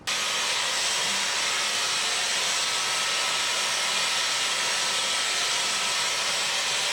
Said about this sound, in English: let me get my good old fashioned handy dandy Dyson